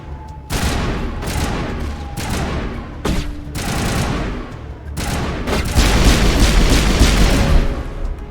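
Shotgun blasts in the Mass Effect 1 video game, a series of loud, sharp booming shots at irregular intervals layered over continuous combat noise, rising into a dense barrage of gunfire near the end.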